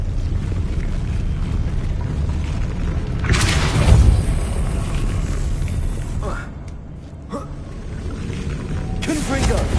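Explosive Confringo spell cast during Hogwarts Legacy combat, a booming blast that swells around the middle with rumbling low-end, followed by smaller bursts and game sounds on a steady noisy bed.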